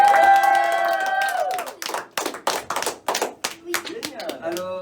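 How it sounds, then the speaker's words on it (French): Audience clapping at a children's magic show, starting under a sustained musical tone and then breaking into uneven bursts of hand claps, fairly close, with voices mixed in. "On applaudit très fort Macboss."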